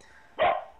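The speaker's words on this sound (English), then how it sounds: "And if you hear that barking, that is my dog" A dog, upset and left in another room, lets out a single sharp bark that stands out clearly against a quiet background.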